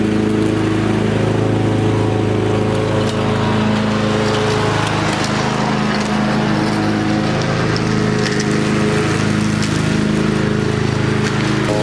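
A lawn mower runs continuously while mowing around a farmhouse. It gives a loud, close, steady engine drone with a rough, rattling texture and no pauses.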